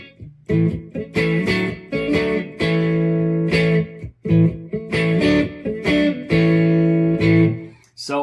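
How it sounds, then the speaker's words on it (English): An electric guitar plays an A shape with hammer-ons up to the four chord, repeated strummed phrases separated by brief pauses, close and alone. "while you're in this A shape, kind of hammer on to that 4 chord"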